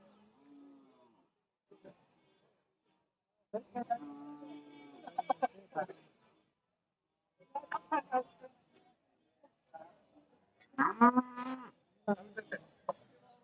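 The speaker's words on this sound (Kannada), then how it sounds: "ನೋಡ್ರಿ ಎಮ್ಮೆಗಳು." Buffaloes at a village cattle market low and moo in several drawn-out, moderately close calls spaced across the scene, with occasional fowl-like clucks and brief voices in between.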